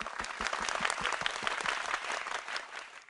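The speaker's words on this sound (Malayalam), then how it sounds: "കൈയടിക്കും എല്ലാവരും." An audience claps together on the set of a Malayalam TV singing show, a dense and steady burst of applause that runs the whole three seconds with no gaps.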